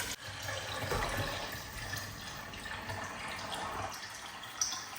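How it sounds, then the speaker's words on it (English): Continuous rushing, splashing water pours steadily into a blender, a close, broadband gurgle that holds for several seconds without pause. "And I'll go in with my water."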